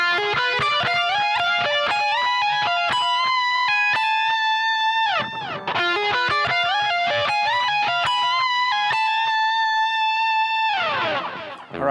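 Fast electric guitar solo run through the A harmonic minor scale, ending high on the root A, with a distorted effects tone; rapid clear note sequences, a short bend or slide break midway, then a final flurry, no talking.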